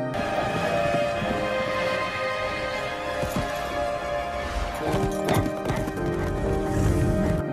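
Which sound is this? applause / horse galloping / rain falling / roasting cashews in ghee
horse galloping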